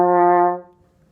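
French horn sounding a single sustained C, clear and close, decaying after about half a second with no talk.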